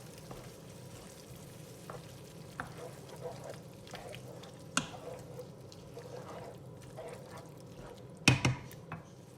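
Red curry with fish sauce and coconut milk being stirred in a pot, a quiet steady bubbling sizzle with occasional soft clinks and scrapes, and a sharper utensil knock near the end.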